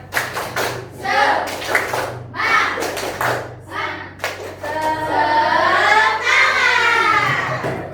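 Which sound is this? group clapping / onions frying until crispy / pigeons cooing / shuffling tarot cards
group clapping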